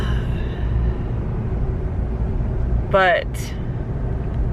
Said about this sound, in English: I am driving.